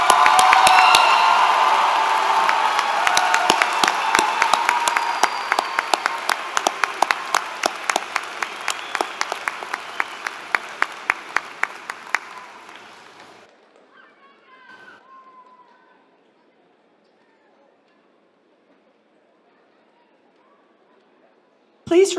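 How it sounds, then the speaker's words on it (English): A large audience at the MSSU 78th commencement morning session applauds the graduates in a dense, steady round of clapping that thins out and fades to near silence after about thirteen seconds. "Let's give all of these graduates another round of applause."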